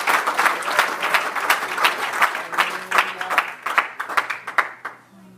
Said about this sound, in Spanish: Claro que puede aplaudir al rey de reyes y señor de señores.